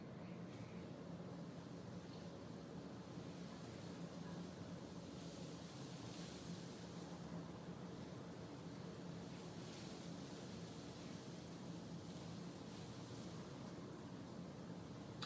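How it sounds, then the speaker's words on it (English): Steady residual wind from Storm Ida blowing outdoors, a continuous broad rushing roar with mild gusts that never lets up. "we're still getting some wind, residual wind from Ida, I guess"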